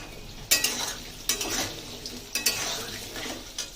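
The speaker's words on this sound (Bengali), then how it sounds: "পেঁপেগুলোকে ভেজে নেব। এখানে দিয়ে দেবো লবণ" Papaya pieces fry in hot oil with salt, giving a continuous close sizzle broken by three bursts of spatula scraping and clattering against the pan, with no voices.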